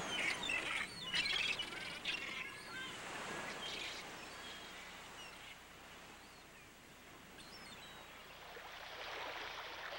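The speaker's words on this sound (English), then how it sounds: "Many varieties of birds populate this scenic haven." Seabirds call and squawk at the Kilauea lighthouse marine bird sanctuary on Kauai's eastern coast, several overlapping cries near and far over a steady wash of surf and wind.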